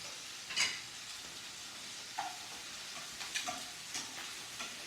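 Food laid flat side down in a hot pan on medium-high heat for browning gives a soft, steady sizzle, with a few brief clinks and taps of the pan nearby and no talking.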